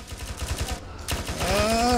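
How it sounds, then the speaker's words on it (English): Rapid gunfire in the Arma 3 video game during a night zombie attack, a steady stutter of shots with a brief pause, then louder continued firing and rising tones. "All I've got is a stupid fucking pistol."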